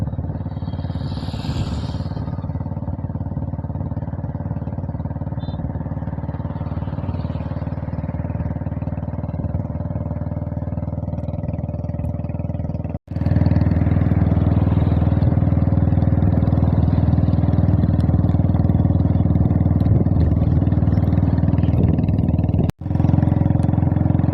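Steady engine drone and road roar from a Hero HF Deluxe motorcycle riding along a highway during a dealership mileage event, continuous and close, with two brief dropouts and no speech.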